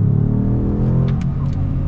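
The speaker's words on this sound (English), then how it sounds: "we are starting off our review with an acceleration because I think that's going to be the most fun thing to do" A truck accelerating hard in sport mode: a loud, deep engine roar that stays steady and close throughout, with a few faint higher squeaks near the end.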